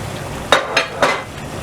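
Fresh chicken pieces dropping into frying gravy masala in a cooking pot, three separate loud close wet thuds and sizzles in quick succession over a steady background hiss.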